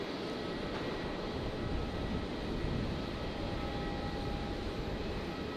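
Steady, faint engine roar of a China Airlines airliner taxiing at Brisbane Airport at night, heard from a distance as a continuous broadband rumble with a faint whine.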